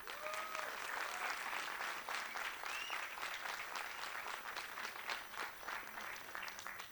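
An audience applauds at an arangetram dance debut with a sustained, dense burst of clapping from many hands, fairly faint and distant, with a few whistle-like tones and murmured voices mixed in.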